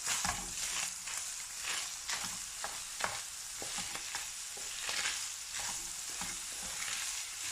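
Onion and garlic sizzle steadily in a hot pan for lasagna, with the scrape and clack of a utensil stirring them at irregular intervals, close and continuous with no talking.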